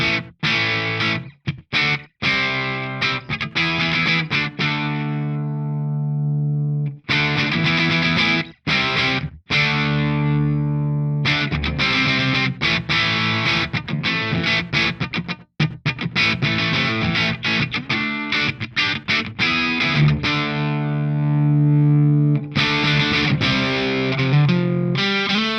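Electric guitar picked hard through a Victory V1 pedal breaks up into thick overdriven chords and sustained notes, loud and close, with brief gaps between phrases.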